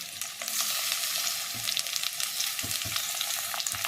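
Onion, diced capsicum, tomato and green chilli stir-fried in a pan for restaurant-style chilli paneer: a steady loud sizzle with repeated scraping stirs, no voices.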